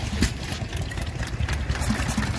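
A small Hercules open-crank hit-and-miss stationary engine runs at a rally, its low chuffing beats thumping unevenly and fairly close, with steady outdoor background noise around it.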